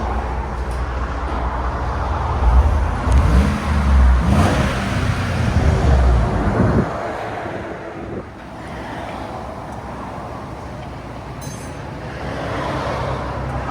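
A 2015 GMC Sierra SLT pickup with a 5.3L V8 and Borla Touring exhaust rumbles close by, its deep engine tone swelling in a brief rev before settling into a low, steady idle.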